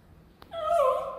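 A young female puppy gives a single drawn-out high whimper close by, rising then bending down in pitch after a brief click, with no other voices.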